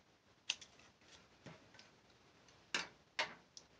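Scissors snipping paper for a Japanese paper doll, a few sharp, separate clicks spaced irregularly in a quiet room, close and faint.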